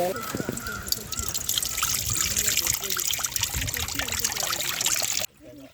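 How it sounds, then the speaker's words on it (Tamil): Tamarind water pours and trickles steadily into a pot in a Nagercoil home-style kitchen preparing fish curry, a close continuous splashing stream that stops abruptly near the end. "இதுதான் புளி தண்ணி."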